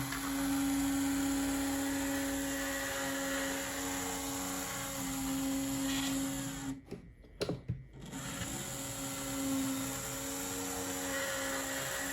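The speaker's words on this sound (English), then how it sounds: "I'm going to put it back on the track and see if we can try to get this to move the grease around a little bit" The motor of a Spectrum CR SD45 model locomotive, freshly greased, runs on track with a steady whirring hum and a tonal whine. The sound briefly cuts out and stutters near the middle, then resumes.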